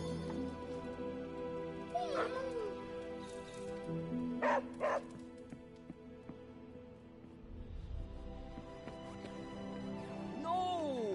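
A dog in the video game Midnight Suns yips and whimpers in short bursts over a steady game soundtrack, with a couple of quick bark-like calls near the middle.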